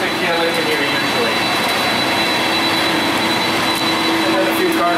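A KLM jet airliner taxis at Toronto Pearson airport, its engines giving a loud, steady whine and broad roar that holds constant throughout with no talking.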